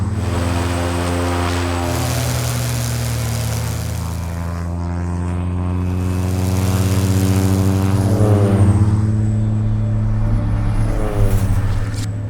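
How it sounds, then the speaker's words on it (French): A Grob 120 propeller training aircraft flies nearby, its engine and propeller giving a steady droning hum that swells and shifts in pitch as it passes, loud and continuous with no voices. "Les premiers pas dans le monde du vol s'effectuent sur Grob 120."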